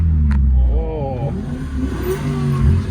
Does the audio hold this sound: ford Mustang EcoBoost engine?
yes